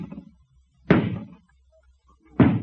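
Heavy pounding on a wooden door, two loud separate thumps with short rumbling tails, spaced over a second apart, with muffled low sound between them.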